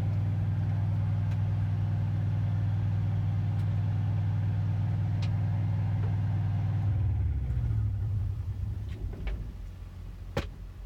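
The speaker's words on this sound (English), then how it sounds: "Give me a second to turn my APU off." A semi truck's auxiliary power unit drones loudly and steadily, then winds down to a lower idle as it is switched off, with a few faint clicks in the cab afterward.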